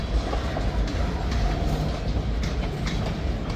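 A train hauled by three locomotives rumbles past in a steady, loud roar of wheels and engines, with faint rhythmic clacks and no voices.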